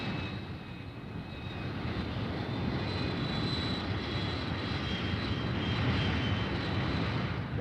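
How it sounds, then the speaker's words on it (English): Military fighter bombers take off from an air base in 1957, a steady, broad roaring engine noise that swells slightly, heard alone without talk. "Back at the base, the fighter bombers take off."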